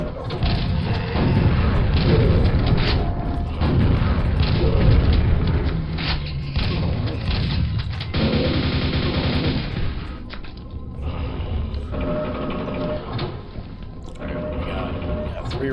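Rocket explosions and nailgun fire from Quake boom and rattle almost continuously, loud and close in a dense barrage, with someone talking over the combat.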